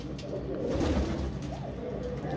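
A yellow-eyed racing pigeon, a winner of three races, coos steadily and close by, a soft rolling murmur that runs through the whole stretch with a faint bird chirp near the end.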